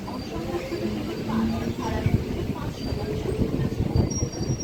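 The Teesta Torsa Express, running Sealdah to New Alipurduar, rumbles past close by with a steady clatter of wheels on rail and a few thin squeals rising above the roar.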